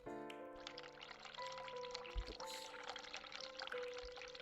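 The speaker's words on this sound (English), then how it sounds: "Sink, run the hot water." Hot water runs steadily from a sink tap in the video game The Cat Lady, a continuous hiss under sustained musical tones.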